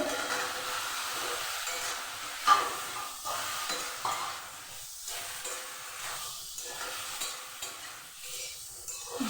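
Ridge gourd tipped into hot spiced oil for a Bengali ridge gourd and potato ghonto with hilsa fish head, giving a steady soft sizzle and hiss with occasional stirring scrapes, close and continuous, no talking.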